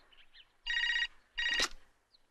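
An old-style telephone bell rings twice in a movie scene, two loud electronic trills separated by a short pause, with no talk over them.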